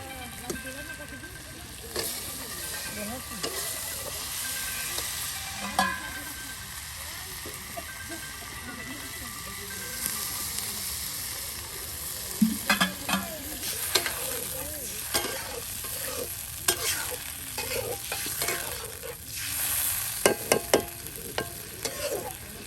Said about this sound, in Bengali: আবার ভালো করে কষানো হচ্ছে